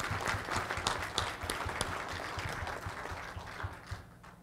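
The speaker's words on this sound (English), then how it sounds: "So I'd ask us all to give Senator Dvorsky a round of applause." An audience at an Iowa legislative forum applauds a senator, a full, steady round of many hands clapping that fades slightly toward the end.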